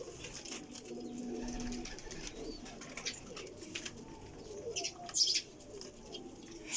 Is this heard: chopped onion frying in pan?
no